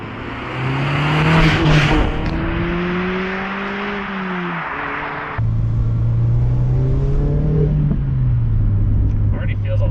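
A Mazda MX-5 ND engine accelerates while driving, its steady, loud drone rising in pitch through the revs, dropping at a gear change and climbing again in a continuous in-car hum.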